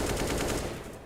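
AK rifle fire in a CS:GO esports match, a quick rapid automatic burst of evenly spaced shots that fades after about a second.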